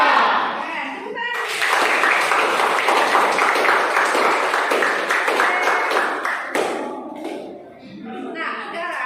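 A classroom of vocational school students bursts into applause right after a school chant. The dense clapping lasts several seconds before tapering off, with voices mixed in.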